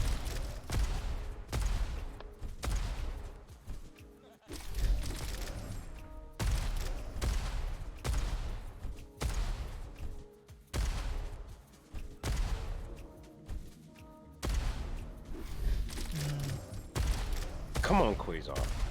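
Rapid weapon fire from the arena shooter Diabotical, with repeated rocket launches and blasts in a fast-paced match, steady and loud throughout, with a commentator's voice running over the action.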